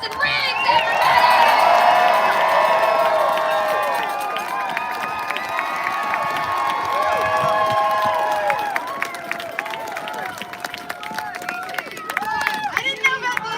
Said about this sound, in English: Y'all give a big round of applause to Justice Allison Riggs